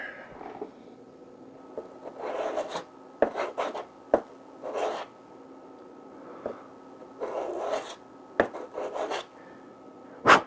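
Repeated rasping strokes of sanding a metal heat sink lengthwise, each a short gritty scrape, with pauses between them and a faint steady hum underneath.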